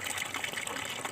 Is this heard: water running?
yes